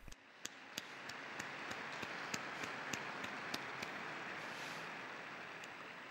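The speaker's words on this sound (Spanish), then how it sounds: "Un aplauso para los nuevos beatos" Applause from the crowd in St. Peter's Square for newly beatified martyrs at a papal Angelus, a steady, diffuse wash of clapping heard at a distance, with a few sharper claps standing out and no talk.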